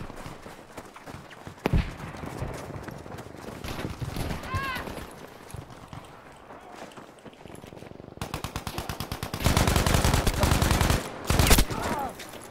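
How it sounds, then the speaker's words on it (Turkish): Shotgun blasts and other gunfire in a Battlefield V multiplayer match, scattered sharp reports early on, then dense, loud volleys of shooting toward the end, mixed with in-game noise. "Pompalı mı? Aynen pompalı."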